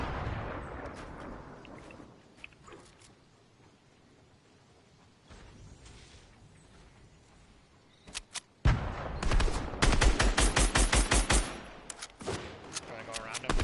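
Grenade explosions and gunfire in a Fortnite match: rough blasts early, a quieter stretch, then a loud burst of rapid, cracking shots and booms near the end.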